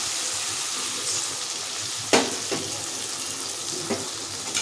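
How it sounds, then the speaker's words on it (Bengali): Water splashes into a frying pan holding spice paste and fish for a Bengali bowal fish curry, giving a steady low sizzle with a couple of brief sharp splashes and no talking. "দিয়ে দেবো সামান্য একটু জল,"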